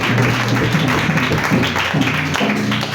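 A church congregation applauds with a dense, steady wash of clapping, while low sustained tones hum underneath throughout.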